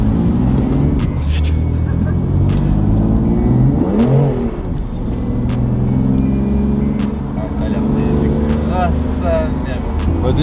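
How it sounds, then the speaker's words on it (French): A BMW car on a race circuit accelerates and slides, its engine droning loud and close with rising and falling revs, while someone talks over it. "Bon, déjà j'accélère à peine les gars, ça glisse de ouf."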